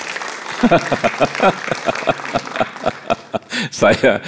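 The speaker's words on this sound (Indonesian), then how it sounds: "Come on, berikan tepuk tangan." A church congregation claps along during a sermon at a Thanksgiving gathering. The claps come as a steady run of sharp beats mixed with voices and a brief chuckle.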